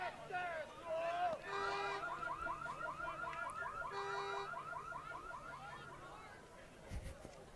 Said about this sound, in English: It's the sound of a car alarm